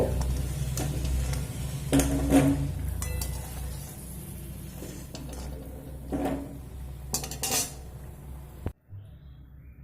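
Freshly fried bori are lifted into a bowl over a faint sizzle, with scattered light clinks and taps of a utensil against the dish before the sound cuts off.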